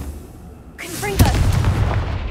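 Hogwarts Legacy's Confringo explosive spell goes off: a quick magical whoosh, a brief voice, then one loud, sharp blast with a lingering booming rumble.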